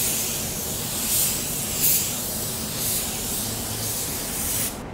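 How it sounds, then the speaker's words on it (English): A paint spray gun hisses steadily for several seconds while laying a wet coat over a blend area, with slight surges in the airflow and an abrupt stop at the end. "You can see you spray it nice and wet."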